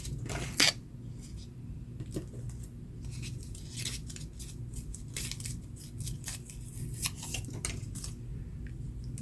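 Paper torn by hand for a summer-themed junk journal pocket tag, a series of short rips and rustles close to the listener over a low steady hum, no speech.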